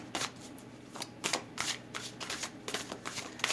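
Amira's Love Oracle cards are shuffled by hand during a tarot reading, giving a close series of quick papery riffles and flutters in irregular bursts, with no voices.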